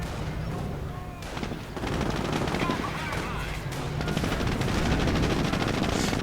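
Gunfire pours onto a Cromwell tank in a real-time strategy game battle, with dense crackling shots and bursts rattling in rapid succession, while a commentator's voice runs underneath.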